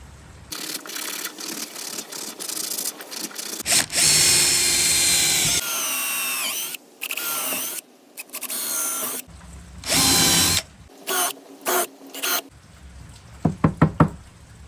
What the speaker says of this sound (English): drill a couple holes in it